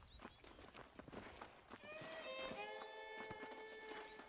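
A horse in the Western video game Red Dead Redemption clops along with soft hoofbeats, then lets out a clear, drawn-out neigh midway that rings on for a couple of seconds, all fairly quiet.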